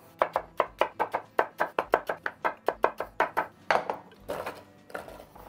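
Rapid rough chopping of apples with a knife on a board, about twenty sharp, evenly spaced close thuds in quick rhythm, ending with a looser scrape and shuffle of pieces.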